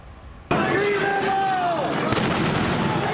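Flashbangs fired by federal agents at a street protest in Paramount: a sudden loud bang opens a sustained roar of crowd noise, with whistles and shouting mixed in.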